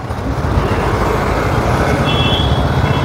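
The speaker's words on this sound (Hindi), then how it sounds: "यहाँ पे तो ट्रैफिक लगा हुआ भाई, इसको बोलते हैं ट्रैफिक," Roadway traffic jam with cars and trucks, a constant low rumble of idling and slowly moving engines heard from up close, with a brief higher whine partway through and no talking.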